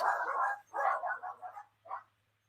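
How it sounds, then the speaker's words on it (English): Dogs bark in a rapid cluster of four or five barks, then one more after a short pause. The barks are moderately loud and nearby, with a faint low hum behind them. "Pause for a moment while we listen to my dogs."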